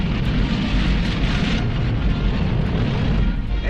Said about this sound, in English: At White Sands, New Mexico, the huge missile takes off.